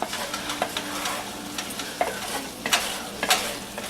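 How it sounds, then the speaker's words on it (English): Diced potatoes fry in a pan while a utensil stirs and scrapes the bottom, giving a steady sizzle broken by repeated short scraping strokes, close and clear with no talking. "So by keeping it scraped clean every few minutes and stirred well,"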